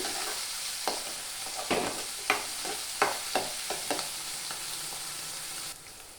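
Onion, tomato and green chili fry in a pan with a steady close sizzle, broken by a series of sharp spoon scrapes and stirring knocks every half second or so, with no talking.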